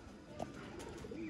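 A golden breeder pair of pigeons gives a faint, brief soft coo among low background noise, quiet and somewhat distant.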